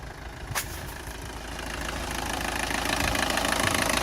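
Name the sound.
old car engine idling after a cold start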